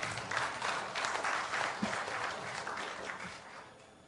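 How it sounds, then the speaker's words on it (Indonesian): An audience at a public debate of mayoral candidates in Malang claps steadily, a dense patter of many hands that gradually fades toward the end. "Tepuk tangan untuk para calon wali kota kita"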